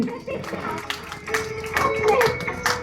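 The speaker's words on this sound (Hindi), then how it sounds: "नहीं, जोरदार ताली होना चाहिए" Audience clapping at a live Sati Parvati stage play in Jhansi: a scattered patter of hands, moderately close, continuing for a few seconds alongside children's chatter and voices.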